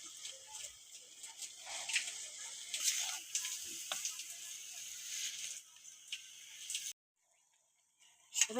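Bengali village-style bitter greens (beto shak) going into a hot pan with lau and shrimp ghonto, giving a soft steady sizzle with light stirring scrapes, then a brief silence and a louder burst at the end.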